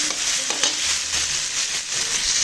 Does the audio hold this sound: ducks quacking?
no